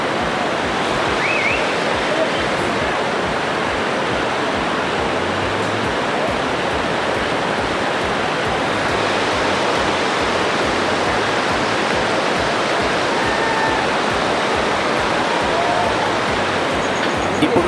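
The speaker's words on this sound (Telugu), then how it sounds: "మీకు కింద కనిపిస్తుంది చూసారా, అది తరాబు వాటర్ ఫాల్స్." Tarabu (Pittalaborra) waterfall in Andhra Pradesh roars with a steady, loud, broadband rush of falling water that holds unbroken for the whole stretch, with no talk over it.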